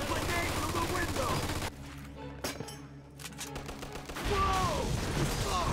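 Gunfire from a World War II battle in the game Mafia II, with a loud fusillade of rapid shots, a quieter lull with scattered distant cracks, then a return to dense firing.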